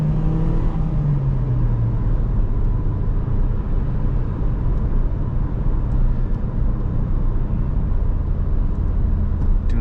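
A 2012 Nissan Juke SV AWD on the road, heard from inside as a loud, steady engine drone with tire and road roar and a brief rising engine pitch at the start, with no talk over it.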